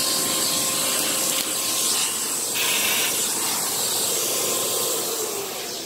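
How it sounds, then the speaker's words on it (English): A Miele U1 upright vacuum cleaner sucks up loose pet hair off a floor, a steady, loud whooshing hiss of airflow that holds near and constant throughout, with small shifts in pitch as the nozzle moves and no talking. "I'm just going to vacuum it up."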